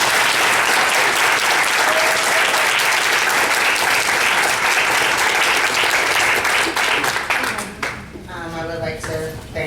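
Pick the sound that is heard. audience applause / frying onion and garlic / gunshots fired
audience applause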